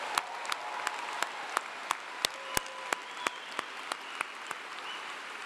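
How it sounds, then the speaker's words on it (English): At Clemson's spring commencement, a crowd applauds a graduating student who sang the national anthem. A soft, broad wash of clapping runs underneath a nearer set of sharp, evenly spaced claps beating out a steady rhythm. "give a big, loud round of applause to Anna Grace"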